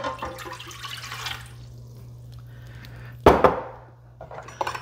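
Warm water, one cup, is poured into a bread machine pan with a soft splash and trickle, followed by a sharper clatter and brief knocks of handling at close range, with a low steady hum beneath.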